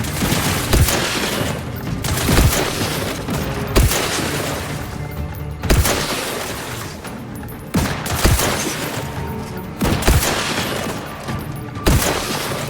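Repeated video game gunfire in Outer Worlds 2, with sharp, loud shots landing every second or two in an uneven rhythm over a dense background of combat noise.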